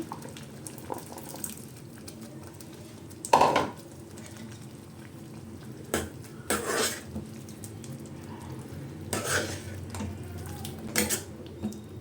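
Broccoli and green peas go into a gravy in a pan, then get stirred: several sharp spoon-against-pan clanks and scrapes over a quiet background, with no speech.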